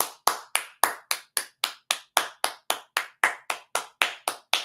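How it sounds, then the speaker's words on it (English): Crisp, close hand claps ring out in a steady, even rhythm, about four per second, each one sharp and distinct against near silence. "I gotta clap it up."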